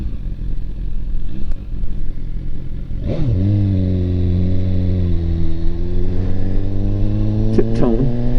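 A BMW S1000RR motorcycle engine at a car wash, loud and close, idling roughly then settling into a steady hum with brief blips of revving near the end.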